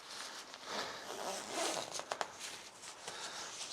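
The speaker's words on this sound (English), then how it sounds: "get these zips done up without letting that touch there." A zippered dust cover over a freshly painted PRS SE Silver Sky Nebula guitar is zipped up, giving close, quiet ratcheting zips in several short pulls.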